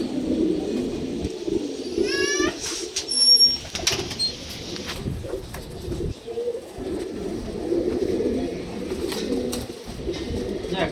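Old-bloodline pigeons coo in low, repeated throaty rolls throughout, with a few brief higher chirps and flutters mixed in against a steady ambient background.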